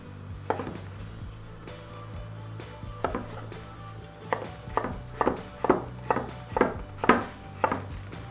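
A knife dices about half a kilogram of potatoes into small cubes on a cutting board, sharp chopping taps coming sparse at first and then in a quicker, regular run, close and fairly quiet, with no talk.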